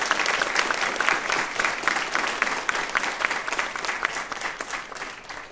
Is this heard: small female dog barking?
no